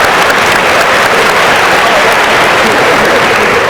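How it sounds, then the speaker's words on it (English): A crowd at a university homecoming convocation breaks into loud, sustained applause, a thick continuous wash of clapping at full level throughout, with a faint murmur of voices mixed in. "Let's give a round of applause."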